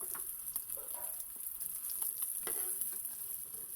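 Fish frying in a pan gives a steady, crisp sizzle with scattered pops and crackles, heard up close on its own, with no one talking.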